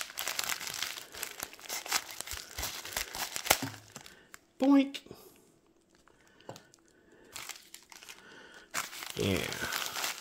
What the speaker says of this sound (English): I think we're gonna get the scissors and snip that one off.